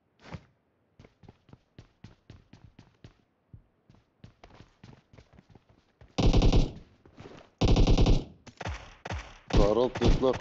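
Gunfire in the PUBG Mobile game: a long run of sharp, rapid single shots builds into loud, dense bursts of automatic fire near the end.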